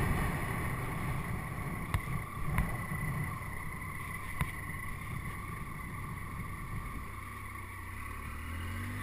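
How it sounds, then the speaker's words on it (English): Steady broadband wind roar buffets the microphone while riding a Triumph Tiger 800XC motorcycle, a continuous loud rush with a low rumble underneath and a few brief thumps. "We're going with the wind."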